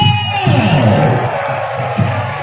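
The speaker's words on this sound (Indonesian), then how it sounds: "Dan selanjutnya beri tepuk tangan yang meriah." Parade crowd at a provincial sports contingent procession cheering loudly, with whoops and shouting voices over a booming announcer's loudspeaker, dense and close throughout.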